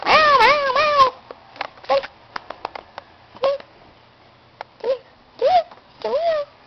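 A house cat meows several times, drawn-out plaintive cries close by, first in a quick cluster and then spaced out, with small soft taps and rustles between calls.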